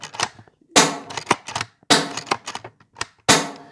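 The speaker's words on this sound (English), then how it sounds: "you simply pull it forward, push it back, and pull the trigger" An Ataman BP17 sub-compact .22 PCP bullpup airgun being cocked and fired: several sharp close shots at roughly one-second intervals, each followed by clicky metallic bolt action in between, loud and with no talk.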